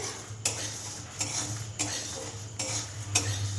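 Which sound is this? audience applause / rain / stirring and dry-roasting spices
stirring and dry-roasting spices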